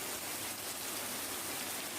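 Steady rain falling, an even hiss of dense drops with no gaps, moderately loud and continuous throughout.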